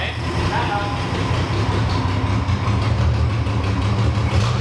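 A 1966 Ford Mustang engine runs on a new mechanical fuel pump, a loud steady low rumble with a throbbing idle pulse that continues without pause.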